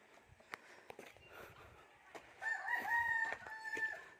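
Chickens around a coop cluck quietly with a few scattered taps and footsteps nearby, then a rooster lets out one loud, drawn-out crow close by in the second half.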